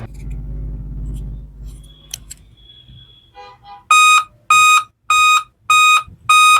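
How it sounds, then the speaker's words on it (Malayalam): A Dell Inspiron laptop at power-on sounds its RAM error beep: five loud, evenly spaced long beeps in a steady rhythm, after some quieter clicks and tones. "പിന്നെ നമുക്ക് ലാപ്പ് ഓണാക്കുമ്പോൾ ഇങ്ങനെ റാമിൻ്റെ ബീപ്പ് സൗണ്ട് വരുന്നുണ്ട്"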